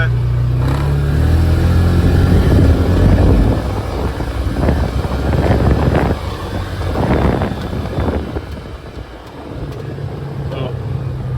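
A 2023 Polaris Ranger 570 SP side-by-side accelerates, its engine droning loudly near the microphone with wind buffeting and rising surges; a voice speaks briefly over the engine.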